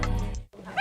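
A puppy gives a couple of short, high yipping barks with a brief gap between them, close and clear.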